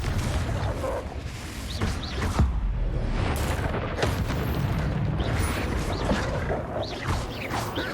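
A Confringo blasting spell erupts in the Hogwarts Legacy video game, a dense barrage of loud booms and crashing impacts that run the whole stretch, layered with rumbling debris and clatter and no speech over it.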